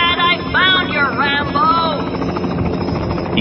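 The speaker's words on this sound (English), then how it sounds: "The sound of a helicopter makes him look up." Helicopter flying overhead, a steady rotor chop and engine drone heard throughout under a narrator's voice and musical tones.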